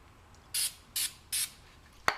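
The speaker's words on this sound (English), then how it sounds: "I'm gonna try some carburetor cleaner." Carburetor cleaner sprayed from an aerosol can onto rear wheels and axle in a John Deere 110 cleanup, three short hissing bursts, close and distinct, followed by a sharp click.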